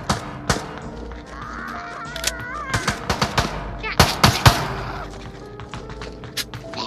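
Video game gunfire cracks out as scattered loud shots and short bursts, mixed with other game sounds and busy activity.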